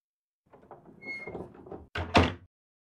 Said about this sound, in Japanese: ゆっくりドアを閉めた